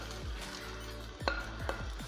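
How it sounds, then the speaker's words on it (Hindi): Egg and potato breakfast mixture poured into a hot oiled pan, sizzling and frying steadily with a few sharp clinks and scrapes of a utensil against the pan, close and alone. "अब पैन में हम अंडे और आलू का मिक्सर डालते हैं"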